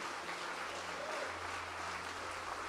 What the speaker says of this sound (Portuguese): Aplaude ele direito,